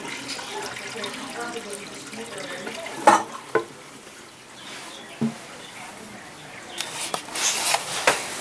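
A Kohler Wellworth toilet flushes to empty the bowl, with steady rushing, gurgling water running throughout and a few sharp knocks and clunks from the tank mechanism.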